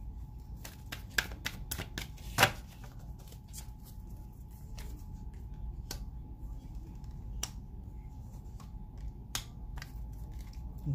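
Tarot cards are shuffled and drawn from a deck, making a string of crisp close-up snaps and flicks at an irregular rhythm over a steady low background hum, with no talking.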